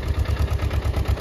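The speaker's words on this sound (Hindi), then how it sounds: "यहाँ पे ये वाले छोटे वाले ट्रैक्टर आते हैं रास्ते से ऊपर" Small tractor engine on a mountain track near Kedarnath, a steady low throbbing idle with an even chugging pulse, close and fairly loud with no talk.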